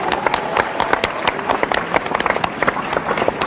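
An audience at a state youth festival closing ceremony in Madhya Pradesh claps for a young singer, a brisk stream of close, uneven hand claps that holds steady throughout.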